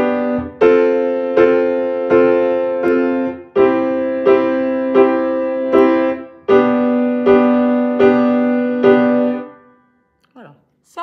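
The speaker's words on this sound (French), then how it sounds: "ce que vous avez entendu, c'est la structure harmonique basique du blues" Repeated chords sound out in a steady pulse, moving through a basic twelve-bar blues progression in C, each strike ringing briefly before the next.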